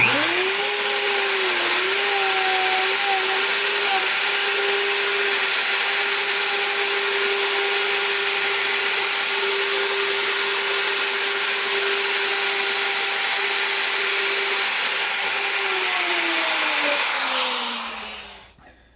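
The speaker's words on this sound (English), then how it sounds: "we are ready to route. So let's go ahead and give this a test run." A wood router with a jig cuts wood: a loud, steady motor whine holds one pitch for about fifteen seconds alongside broadband cutting noise, then the tone drops as the machine spins down.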